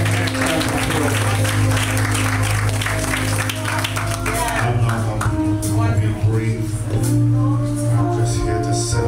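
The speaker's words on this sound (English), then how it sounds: "give the Lord a hand clap of praise" A church congregation claps hands in praise, dense and continuous applause filling the room with an organ-like sustained tone underneath and a voice speaking over it.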